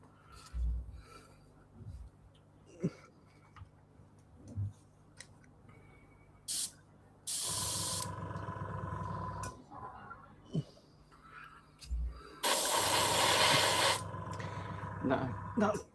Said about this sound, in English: that compressor's going to get in people's nerves, so I'm just going to mute